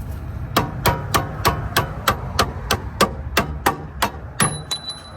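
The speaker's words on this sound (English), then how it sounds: "we can grab something like this from the other side and hammer it out" Metal hammer blows driving a tie rod end out of the steering knuckle on an Acura TSX, about a dozen sharp, ringing strikes at a steady, fairly quick pace, loud and close, with no talking.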